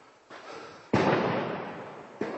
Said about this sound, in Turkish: inanılmaz patlamalar var şu anda